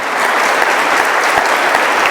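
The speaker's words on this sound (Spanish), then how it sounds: "Dale un aplauso al Señor" Church congregation at a Sunday sermon breaks into loud, dense applause, a steady wash of clapping from many hands filling the room for a couple of seconds.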